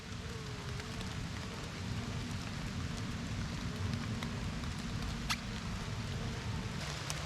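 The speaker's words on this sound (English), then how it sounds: "Just started raining out here" Light rain falls outdoors near a honeybee mini mating nuc, a soft, even hiss of drops with occasional faint ticks, steady and quiet throughout.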